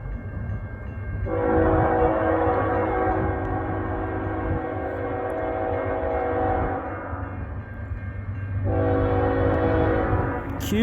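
CN freight train Q196 at Ladysmith led by an ES44 locomotive, sounding two long loud horn blasts with a brief gap between them over the steady rumble of the passing train.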